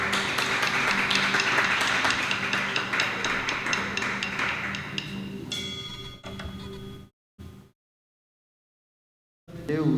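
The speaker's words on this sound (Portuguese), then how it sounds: "Dá uma salva de palmas ao Senhor" Church congregation applauding together, a dense burst of clapping that fills the room loudly at first, thins out and stops abruptly, leaving a moment of silence before sound returns.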